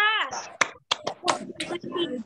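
Children at a Sunday school perform the 'tepuk sukacita' clapping routine, with quick rhythmic claps mixed with their chanting voices at close range.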